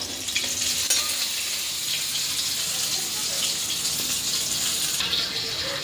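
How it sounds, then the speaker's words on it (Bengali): Fish frying in a pan in a home kitchen, a dense, steady sizzle with crackling spatter running the whole time at close range, with no talk over it. "এখানে হচ্ছে মাছ ভাজা"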